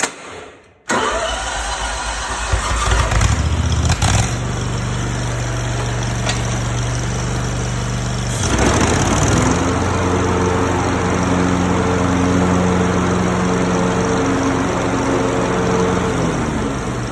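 A riding lawn mower engine starts up and settles into a steady, loud mid-pitched running hum that continues alone, close by, with no one speaking.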